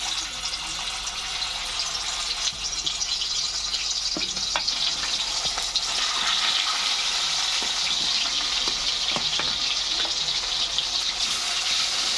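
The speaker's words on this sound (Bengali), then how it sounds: "মাছের মাথাটা ভাজা হয়ে গেছে, এবার মাছ ছেড়ে দিচ্ছি।" Large pangas fish pieces, rubbed with salt and turmeric, sizzle steadily in hot oil in a pan, a continuous close hiss with occasional pops and spatters and no talking.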